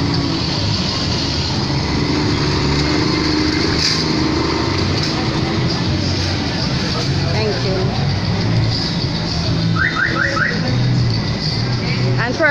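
Busy street with many cars passing in a Colombian town, a steady continuous roar of engines and tires close by, with a person talking over it throughout.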